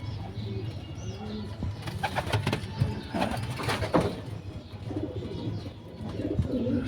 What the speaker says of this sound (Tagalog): yung mga ibon natin dito, mga YB na to mga lapatids